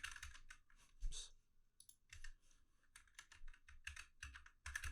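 Typing on a computer keyboard with a newly changed layout, quick bursts of near, crisp key clicks in an uneven rhythm with short pauses, heard alone.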